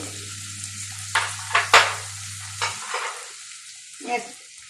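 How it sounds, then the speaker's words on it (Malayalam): Garlic, cashews and tomatoes sauté in a pan, with several scraping stir strokes cutting through a steady sizzle and a low hum that fades partway through. "അണ്ടിപ്പരിപ്പ്, തക്കാളി ഇതെല്ലാം ഇട്ട് വഴറ്റാം."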